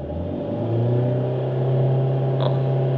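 A Volvo diesel engine during DPF filter regeneration climbs to about 4000 rpm and holds there in a steady, loud, close mechanical drone, with a brief high whine partway through.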